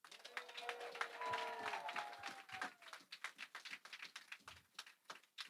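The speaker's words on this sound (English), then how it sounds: "Another big round of applause." An audience claps in a room, fairly distant and soft, in a scattered, steady patter of hands.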